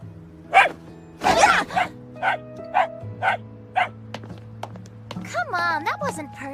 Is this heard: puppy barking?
yes